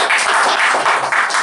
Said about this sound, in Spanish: un aplauso para nuestro invitado